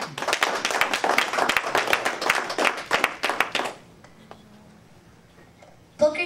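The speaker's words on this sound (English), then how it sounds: "Applaud." A church congregation in Newark claps in a dense, lively burst that stops abruptly after a few seconds, leaving a quiet room before a brief sound at the end.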